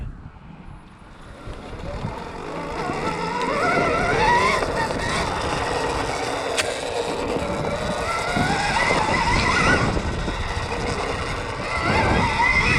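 A Stark Varg electric dirt bike picks its way slowly over rocks, its motor a steady whine under continuous crunching and scraping of tires on stone, close and fairly loud throughout.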